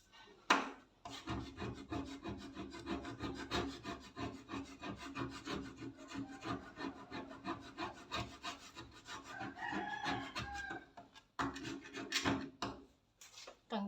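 Scraping a stuck tag off plywood on a stair, rapid rough rubbing and rasping strokes in an uneven rhythm, close and moderately loud with brief pauses.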